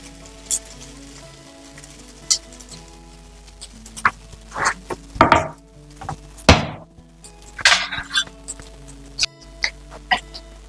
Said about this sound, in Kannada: ಇವಾಗ ಎಣ್ಣೆ ಬಿಸಿಯಾಗಿದೆ ಅದಕ್ಕೆ ನಾವು ಈ ಥರ ಟ್ರೈಯಾಂಗಲ್ ಮಾಡಿಟ್ಟಿರೋ ಪೊಟ್ಯಾಟೊ ಟ್ರೈಯಾಂಗಲ್ನ